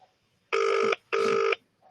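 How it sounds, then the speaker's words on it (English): A telephone rings twice on a call, two clear even electronic ring bursts about a second long with a short gap between, loud and close, with no talk over them. "let's get Mr. Smarty Pants on if he's going to answer the phone"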